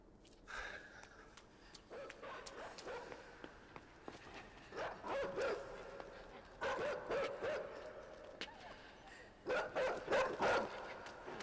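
A dog barking in the video game Inside, repeated bursts of barks in short clusters at a moderate distance over a dark ambient background.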